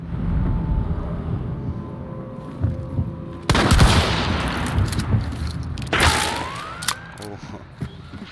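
Gunfire in Hunt: Showdown, with sharp loud shots and booming reports over a rumbling game background while players talk.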